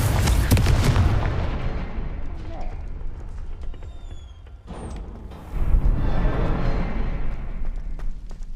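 Fiery Confringo spell blasts in the video game Hogwarts Legacy: a loud explosive burst that trails off into a long rumbling decay, then a second booming blast a few seconds later.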